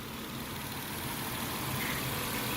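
A 1993 Nissan Gloria Y32's naturally aspirated 3.0-litre VG30E V6 idles steadily close by, a smooth, constant engine hum with no speech over it.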